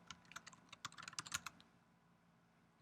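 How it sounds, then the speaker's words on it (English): Close, quick keystrokes on a MacBook keyboard as a password is typed, a brisk irregular burst of clicks that stops after about a second and a half, leaving quiet room tone. "I type yes, hit enter, and then type my password for my MacBook."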